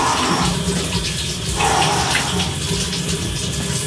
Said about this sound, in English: on the cold water as I'm getting it everywhere on my bathroom floor